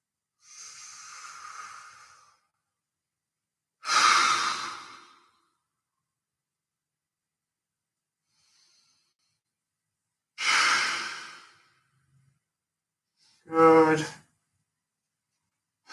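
Deep breaths during a chest-stretching exercise: four slow, separate inhales and exhales, close and fairly loud, spaced by long quiet pauses, the last one ending in a slightly raspy, fluttering release.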